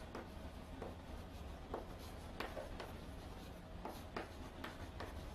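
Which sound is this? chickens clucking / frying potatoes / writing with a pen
writing with a pen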